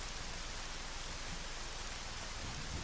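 Steady, dense rain hisses without a break through a dark, stormy night cutscene in the video game Zelda: Majora's Mask, soft and even, with no voices and no distinct thunderclap.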